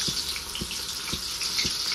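Taro-leaf fritters (alu vadi) frying in hot oil, a steady bright sizzle with a few soft low thumps spaced evenly through it, no talking.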